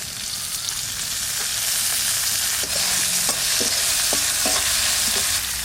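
Soaked chickpeas fry in hot oil with bay leaf, mustard seed and chilli for a Bengali ilish-head and taro-leaf dish, giving a steady loud sizzle broken by a few scraping stirs near the end.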